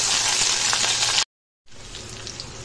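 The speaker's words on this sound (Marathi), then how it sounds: "तेलात आपण चांगलं फ्राय करून घेऊया।" Mustard seeds, cumin, fennel, nigella, curry leaves and green chillies sizzle loudly and steadily in hot oil for an okra curry, with a brief silent gap midway before the frying hiss resumes a little softer.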